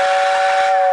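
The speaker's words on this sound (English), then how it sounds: "I'll give you a little whistle." A Lionel 736 Berkshire model steam locomotive sounds its whistle in one sustained, loud, steady blast at close range.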